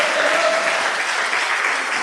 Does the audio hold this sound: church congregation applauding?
yes